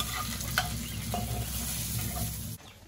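Fried spice mix hits a potato dal with a steady sizzle and frying crackle, a spoon stirring briefly, then the sizzle drops away near the end.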